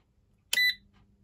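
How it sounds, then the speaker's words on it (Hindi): A universal AC PCB control board gives a single short electronic beep on power-up, a bright tone with a brief tail, alone in an otherwise quiet room. "बीप का आवाज़ आया"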